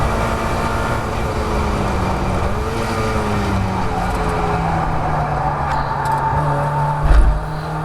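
A Mazda MX-5 race car at full throttle on the Croft circuit, its engine droning loud and steady from inside the cockpit as the pitch rises and drops through gear changes, with a brief thump near the end.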